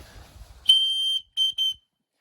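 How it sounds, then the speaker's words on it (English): A small survival-kit whistle gives one long shrill blast, then two short sharp toots, loud and close, after a moment of faint background rumble. "this little thing right there, it's an actual whistle"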